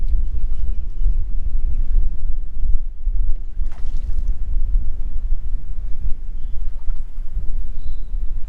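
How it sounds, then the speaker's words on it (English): Steady, heavy wind buffeting the microphone outdoors while fishing, a constant low roar with faint watery sounds beneath and no speech. "It's windy."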